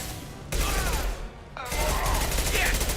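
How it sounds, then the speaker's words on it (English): Impact shot fired in Mass Effect: two loud bursts of weapon fire, the second longer and sustained, over a noisy combat background with some sweeping whooshes. "Firing an impact shot."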